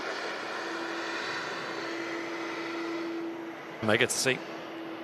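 An airliner taxis at Manchester Airport after a long wait on the taxiway, a steady, moderately distant engine whine and hum holding throughout, with a brief burst of a man's speech near the end.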